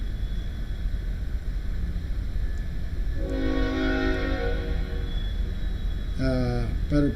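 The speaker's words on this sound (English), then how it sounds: "I don't know if y'all hear that train noise." A train rolls past outside a room during a live morning show, its low rumble swelling midway and a horn blaring near the end, loud over steady background noise.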